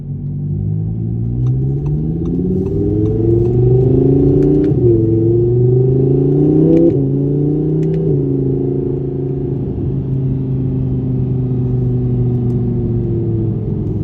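An Audi R8 V10 Plus supercar with a 610 hp engine drones steadily nearby, its revs rising and dipping in several smooth swells over a constant loud rumble, with no talking.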